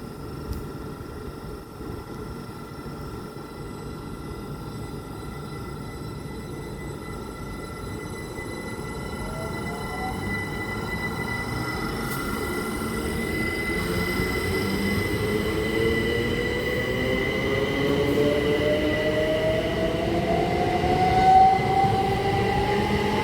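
A Great Western Railway passenger train departs Goring & Streatley station, rumbling steadily and growing gradually louder as it gathers speed, with faint wheel squeals and electric whine rising in pitch over the rolling noise.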